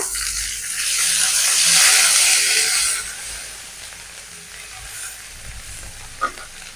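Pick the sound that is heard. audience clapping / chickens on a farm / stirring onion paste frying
stirring onion paste frying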